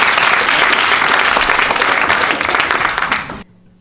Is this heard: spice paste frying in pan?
no